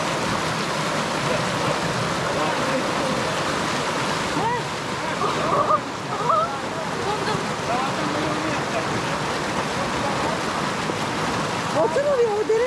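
Flowing stream water at Çat Deresi in Dersim, a steady broad rushing wash close by, with people talking over it and a voice now and then.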